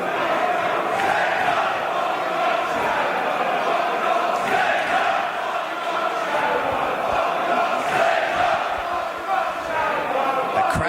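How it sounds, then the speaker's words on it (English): A wrestling crowd divided between Tommaso Ciampa and Zack Sabre Jr fills a small venue with loud, continuous cheering, chanting and shouting, with rising swells across the whole stretch. "The crowd splits in their allegiance here for Tommaso Ciampa and Zack Sabre Jr."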